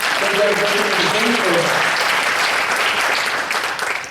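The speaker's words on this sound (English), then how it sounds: "Please give him a round of applause." Steady applause from a crowd, dense and loud throughout, tapering slightly at the end.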